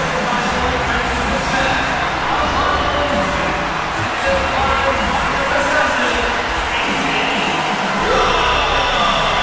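A wrestling game crowd roars for a wrestler's entrance, a dense, steady wash of cheering that fills the whole stretch without a break.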